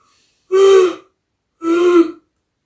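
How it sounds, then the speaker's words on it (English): Two long, breathy vocal exhalations with a strained, voiced tone, each lasting about half a second, separated by a short pause, close and fairly loud. "I'm gonna yawn."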